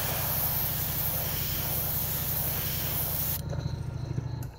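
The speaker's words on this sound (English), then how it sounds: "just kind of spray a little line down the middle." A steady spray-paint aerosol hisses close up onto a rag for several seconds, then cuts off, leaving a quieter room with faint handling sounds.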